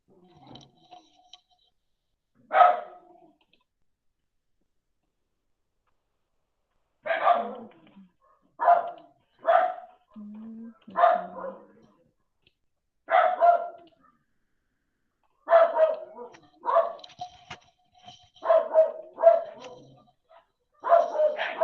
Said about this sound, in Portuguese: Vocês estão escutando minhas cadelas?